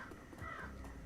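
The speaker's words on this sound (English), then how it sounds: "Birds." A crow caws harshly in the video game Shadowrun Returns, brief and fairly loud, over a steady background drone.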